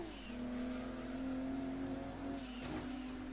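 Engine of a red RUF CTR2 in the racing game Gran Turismo 2, a steady sustained drone holding revs with a slight dip and swell near the end, clear and alone.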